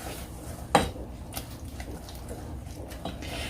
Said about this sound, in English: I'm just going to stir this in and kind of get it incorporated